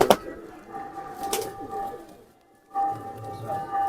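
A male pigeon coos in a loft, low throaty coos rolling on under two sharp bright calls, then a brief near-silence before the cooing resumes.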